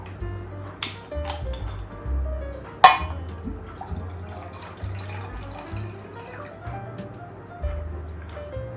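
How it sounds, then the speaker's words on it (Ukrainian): Metal utensils clink against a bowl while milk is mixed separately for a piña colada cake: a few sparse, close taps and chinks, one sharper strike, over a steady low musical backdrop with no talking. "Далі в окремій ємності змішую молоко."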